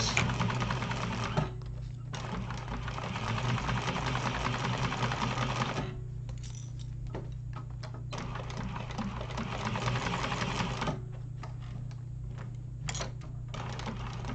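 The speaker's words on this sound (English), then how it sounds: "Make sure I change my seam allowance or my stitch length. And here we go, back stitch." Sewing machine stitching a wallet seam, running steadily in several bursts with brief pauses between them and a constant low motor hum underneath, including a short back stitch.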